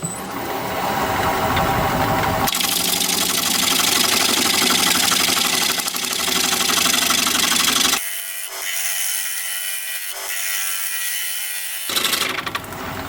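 A wooden bowl of unknown wood, showing a crack, being cut on a wood lathe, with a loud continuous scraping rasp of the tool against the spinning blank that drops away and returns in bursts.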